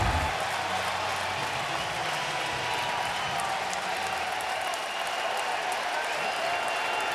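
A home crowd at an LSU baseball game during the College World Series finals claps and applauds steadily, a dense, sustained wash of clapping from a large stadium audience with no voice on top.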